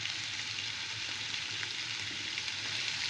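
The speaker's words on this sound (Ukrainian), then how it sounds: "і буду смажити, поки не розтопиться," Turkey fat sizzles and crackles steadily in a frying pan over high heat, a close, continuous frying hiss with small pops and no talking.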